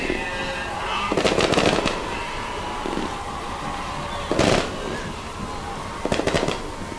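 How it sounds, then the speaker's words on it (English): Fireworks go off at a high school football stadium, with rapid bursts of crackling pops in three separate volleys over a steady crowd murmur, loud but slightly distant. "As fireworks shoot off in the north end zone, the Pirates enter from the south end zone."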